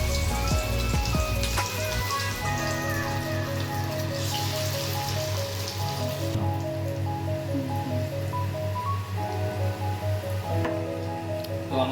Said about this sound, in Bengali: অল্প অল্প করে এগুলোকে কড়াইয়ের মধ্যে দিয়ে দেবো।